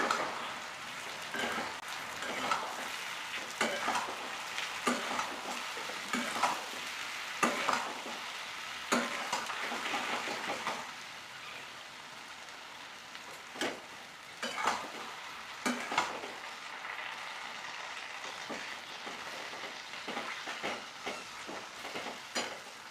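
Chili powder, including Kashmiri red chili, being stirred into a sweet-and-spicy jujube (kul) pickle, giving a steady run of close scraping and mixing strokes with soft clicks and rustles of the spoon in the pickle.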